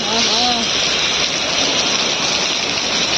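Heavy monsoon downpour at a market pouring down in a loud, constant hiss and roar of water, close by, with a brief voice near the start.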